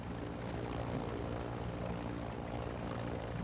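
Helicopter in Call of Duty Modern Warfare 2 multiplayer, a steady, dense rotor and engine drone that holds loud and unbroken throughout, with no talk over it.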